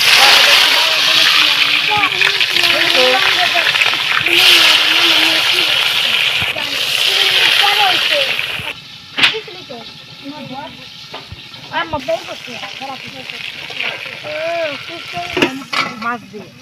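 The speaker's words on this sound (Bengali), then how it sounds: "কড়াই গরম হয়ে গেছে, এখন আমি তেল দিয়ে দেব।" Oil hits a hot wok and bursts into a loud, dense sizzle that holds for about nine seconds, then drops to a softer crackle with sharp spits and pops while people talk nearby.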